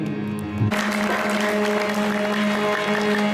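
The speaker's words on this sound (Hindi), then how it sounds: "जिसको भी शाह मस्ताना की खुशी है वो ताली अवश्य बजाएंगे भाई" A congregation claps together at a satsang gathering, a dense, steady wash of applause that breaks in suddenly and fills the space, with a sustained tone running underneath.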